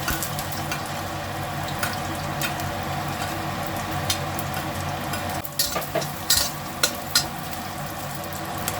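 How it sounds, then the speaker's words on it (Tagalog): Sausage sautés in a pan with a steady bright sizzle and occasional scraping stirs, a few sharper clinks toward the end, and no one talking. "Igisa po natin yung sausage."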